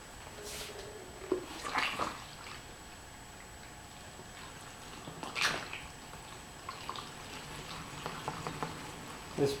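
Bee feed poured through a funnel and fill tube into a hive feeder, giving soft irregular gurgles, trickles and splashes of liquid with a few brief louder bursts against a quiet background.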